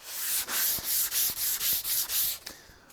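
A wooden tool handle rubbed with fine 2000 grit sandpaper, a close, rhythmic hiss of about eight even back-and-forth strokes that stops near the end, with no talking.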